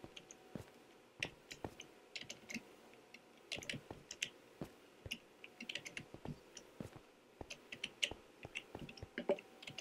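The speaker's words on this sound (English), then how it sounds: "Button mashing." Computer keyboard mashed rapidly during a Minecraft-style parkour map, dense irregular bursts of close, quiet plastic key clicks and taps across the whole stretch, with no talking.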